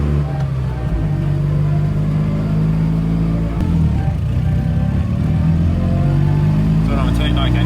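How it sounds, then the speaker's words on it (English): A race car engine with a rough, bad-sounding note drones steadily and loudly while driving through turns, its pitch rising and falling as it revs, with voices talking over it. "It's a bad sounding engine."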